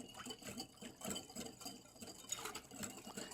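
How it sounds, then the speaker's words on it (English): Whisk stirring a tangy cucumber salad marinade in a bowl, a quick steady rhythm of light scraping and liquid sloshing throughout, close and fairly quiet with no talking. "take a little whisk, stir everything together real good"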